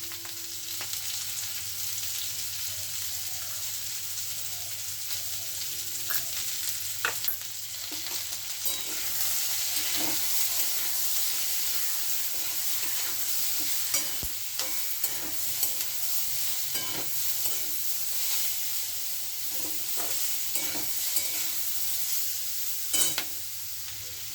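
Kashmiri chilli frying in oil in a pan for a simple carrot dish, a low, even sizzle running throughout with scattered spoon scrapes and clicks, fairly faint and with no voices.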